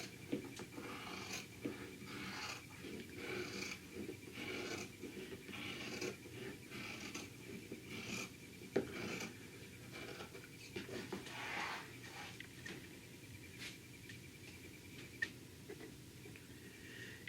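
Scissors cutting fabric along a curved arc for a chef's hat, a series of faint, rhythmic snips and crisp cloth rustles close by.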